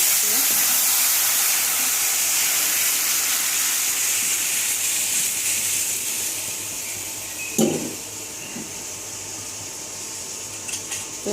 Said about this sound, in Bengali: ডাল দেওয়ার আগে পাঁচফোড়ন দিয়ে দিলাম